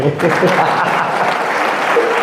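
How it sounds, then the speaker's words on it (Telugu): An audience applauds at a Sai devotees' satsang gathering, with loud, dense, sustained clapping from many hands close by. "ఇప్పుడు గట్టిగా చప్పట్లు కొట్టాలి"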